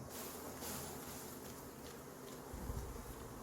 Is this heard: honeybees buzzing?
yes